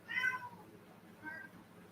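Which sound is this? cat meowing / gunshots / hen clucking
cat meowing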